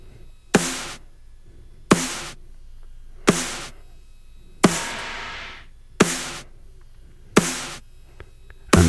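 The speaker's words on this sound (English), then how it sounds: "So let's combine the three snare tracks." A layered snare drum sound built from three combined tracks hits in a steady rhythm, with seven sharp, bright cracks roughly every 1.4 seconds, one ringing longer, all dry and close with no voices.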